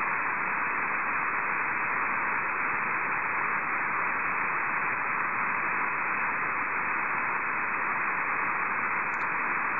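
Steady band-limited radio hiss and static received through a rooftop top antenna while monitoring a distant beacon, a continuous, even rush of noise held at constant level throughout with no voice.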